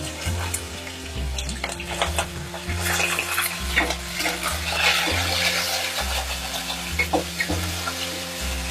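Curry leaves and green chillies fry in a pan for a Kerala mango mappas, giving a steady sizzle with stirring scrapes and clatter throughout, close and fairly loud, with no talking.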